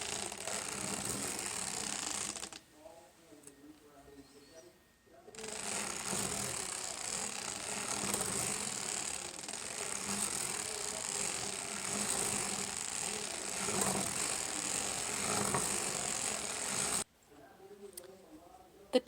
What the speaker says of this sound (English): we can complete the foot by cranking 40 rows of plain knit